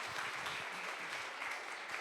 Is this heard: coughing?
no